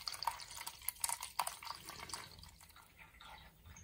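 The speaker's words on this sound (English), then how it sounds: "the jug is filling a lot quicker than it did before" Water from a drained central-heating radiator pours into a jug, giving a steady splashing trickle with irregular drips and gurgles that slowly settles into a softer, even flow.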